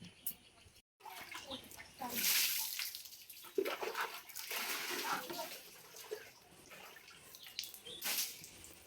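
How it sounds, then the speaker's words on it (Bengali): Water is poured over a child during a bath, with bursts of splashing and spattering that rise and fall irregularly. Voices talk over the splashing. "গায়ে পানি ঢালো"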